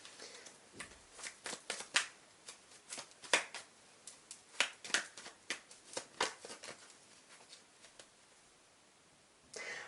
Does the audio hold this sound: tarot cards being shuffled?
yes